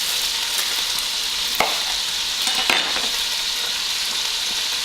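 Cubed beef browning in bacon fat for a chunky paleo chili gives a steady, close hiss of frying with a few soft clicks and pops as the pieces shift in the pan.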